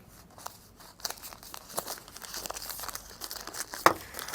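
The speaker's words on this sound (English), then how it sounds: "Inside is the oil paper to wrap it up." Oil paper wrapping around a boxed valve assembly being pulled open, giving a run of close, crisp crinkles and tearing rustles with one sharper crackle near the end; no voices.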